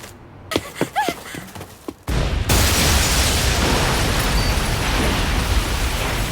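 A bomb-shaped package explodes in an anime scene, a sudden loud blast that cuts in and then holds as a sustained roaring rumble of debris and noise, following a few brief quieter sounds.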